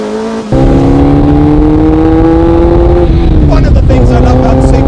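A Lotus Elise S1 sports car engine drones loudly and steadily from inside the cabin, its pitch climbing slowly and then easing off, with a shift in tone near the end.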